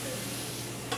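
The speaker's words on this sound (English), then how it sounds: "Add the garlic in there." Garlic dropped into a hot pan for an asparagus sweet potato soup, giving a brief steady sizzle with a small stirring knock at the end, close and without talk.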